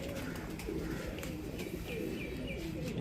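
A golden pigeon held in the hand coos in soft, low repeated phrases close by, with chirps and faint background activity around it in Jammu.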